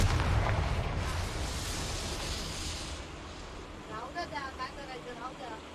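A Confringo fire spell explodes in Hogwarts Legacy, a loud broad boom at the start that rumbles and slowly fades under a lingering low roar, with a voice talking faintly near the end.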